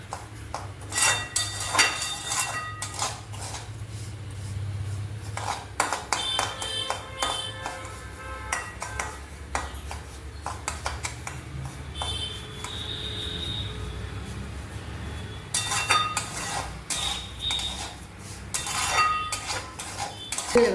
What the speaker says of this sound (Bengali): এটা আমি অনবরত নেড়ে নেড়ে ভাজবো